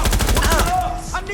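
Rapid automatic gunfire in the video game Watch Dogs: Legion, a loud burst of closely spaced shots that breaks off partway, followed by a few fainter game sounds.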